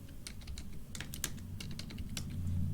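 Close, quiet typing on a computer keyboard, a quick irregular run of light key clicks over a low steady hum, with no voices.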